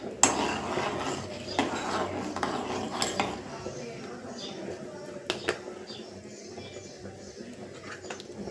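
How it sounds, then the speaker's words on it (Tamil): Fenugreek seeds splutter on their own as they temper in a hot pan, giving faint scattered crackles and pops with a few sharper clinks of metal against the pan. "வெந்தயம் மட்டும் போட்டு தாளிக்கும் போது பாருங்கள், வெந்தயம் நல்லா பொரிஞ்சு வரட்டும்."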